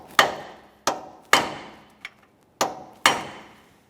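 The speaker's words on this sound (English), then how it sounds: "I'm just using a hammer and punch. We'll give this a couple taps." Hammer striking a punch to drive a nut into the axle slot during front lower ball joint replacement on a 2014-2019 Toyota Corolla: six sharp metallic taps at an uneven pace, close and clear, one of them lighter.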